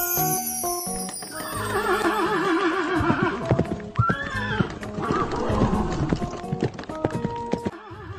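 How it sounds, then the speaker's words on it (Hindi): A horse neighs in several shrill, quavering whinnies, with clip-clopping hooves running throughout under bright music; no one talks. "हॉर्स"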